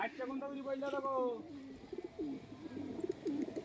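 Domestic pigeons of a Kalpetia breed coo nearby in soft, repeated throaty phrases, with someone talking over and between the calls.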